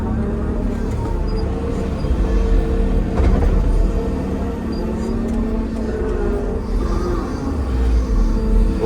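An excavator swings uphill on its swing motor at a clay pit, giving a loud, steady diesel engine drone and hydraulic rumble that swells slightly mid-swing, heard up close without talk.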